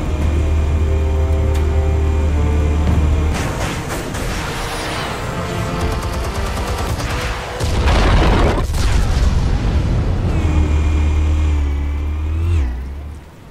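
Explosives go off in the Batman Telltale game, a loud rumbling burst midway through, set against droning, tonal background music.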